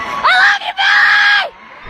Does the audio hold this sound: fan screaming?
yes